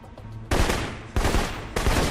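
Rapid automatic rifle fire from the video game Alpha Protocol, three loud dense bursts of shots spaced about half a second apart, close and alone with no talk.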